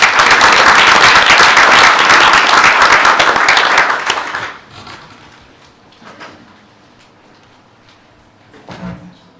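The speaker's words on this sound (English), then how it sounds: "Let's give her another round of applause." Audience at a board meeting gives a round of applause, loud and dense clapping for about four seconds before fading out, followed by quiet room noise and a few faint shuffles.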